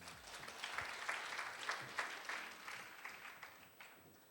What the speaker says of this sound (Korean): 대담을 진행해 주신 각 부문 리더분들께 박수 부탁드립니다.